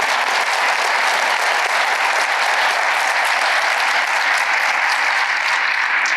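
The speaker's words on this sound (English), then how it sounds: "Let's give him one more round of applause" A conference awards audience at a hall of fame ceremony gives a speaker a sustained, loud, dense round of applause that stays even from start to finish, with no talking over it.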